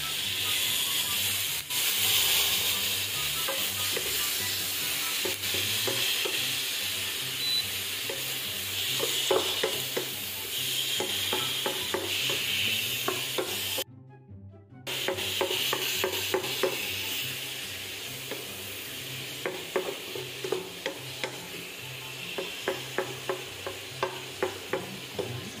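Pork and bamboo shoots stir-frying in a pan, with a steady close sizzle and hiss under repeated rhythmic spatula clanks and scrapes, briefly cutting out midway before resuming with more frequent knocks.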